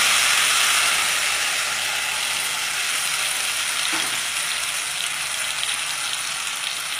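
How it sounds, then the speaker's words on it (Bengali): Grated bottle gourd goes into hot oil with fried tempering spices for a Bengali lau moong ghonto, giving a loud, steady, broad sizzle that holds evenly for the whole stretch with no talking. "লাউটা ঢেলে দিলাম"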